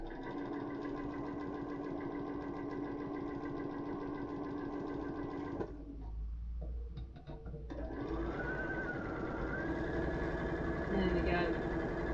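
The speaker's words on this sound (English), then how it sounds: "So we've sewn those down." A sewing machine stitches a quilt block in a steady, fast mechanical whir that pauses briefly midway and then resumes, close and fairly loud, with a voice talking through part of it.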